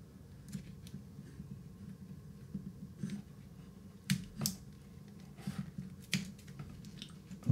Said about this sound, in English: And I'm putting these scissors to the edge.